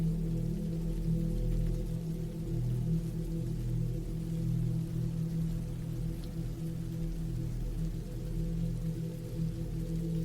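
Steady, dense rainfall with a constant low rumble underneath, continuous and even throughout, no voices.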